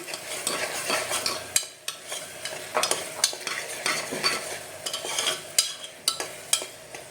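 Ginger-garlic spice paste frying in oil for Savaji-style mutton sukka, a continuous crackling sizzle broken by repeated sharp scrapes and taps of a spoon against the pan.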